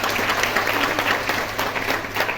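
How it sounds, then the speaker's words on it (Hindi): Loud, dense applause from a crowd at a Modicare event in Sai Auditorium, New Delhi, steady clapping filling the whole stretch. "सर के लिए जोरदार तालियां होनी चाहिए।"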